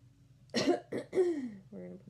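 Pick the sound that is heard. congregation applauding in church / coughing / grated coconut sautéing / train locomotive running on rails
coughing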